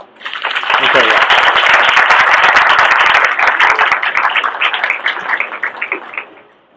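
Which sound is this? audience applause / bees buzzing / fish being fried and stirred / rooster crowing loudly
audience applause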